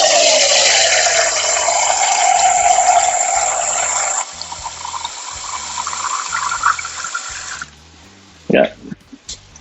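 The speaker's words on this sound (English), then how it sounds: "I'm going to have to add a can of water in here" Water from a can pours into a pot of tomato sauce, a close splashing gush that thins to a quieter trickle and stops, followed by a few handling knocks.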